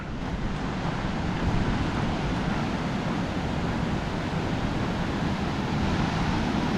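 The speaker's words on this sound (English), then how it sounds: "It's kind of cold in this valley. You got the wind." Cold wind blows through a valley on the Wonderland Trail at Mount Rainier, a loud, steady broadband roar with gusty buffeting against the microphone and no voices.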